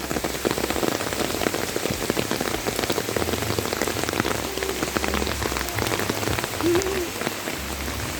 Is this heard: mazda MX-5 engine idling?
no